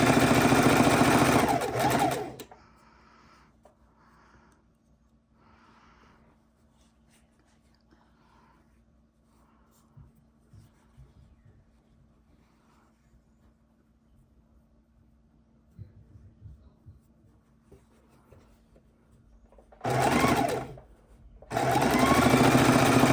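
A sewing machine runs loud and steady while sewing a quilt's triangle border, stops for a long quiet stretch of faint handling noises, then starts again in two strong bursts near the end.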